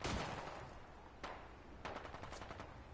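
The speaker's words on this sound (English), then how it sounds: "They're shooting at you" Enemy gunfire in Fallout 4 at a harbor, bursts of automatic shots rattling at moderate distance, with a sharp volley near the start and more bursts later, no talking.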